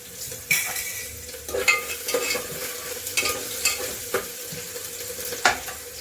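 Steady sizzling of onion and cumin frying in a pan, with repeated scraping stirs from a spatula at irregular intervals; no voices.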